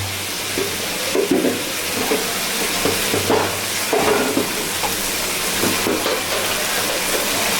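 Chicken curry with cucumber sizzles loudly in a pan while a spoon stirs it, giving a constant frying hiss under irregular soft scrapes. The cooking is close and unbroken, with no voices.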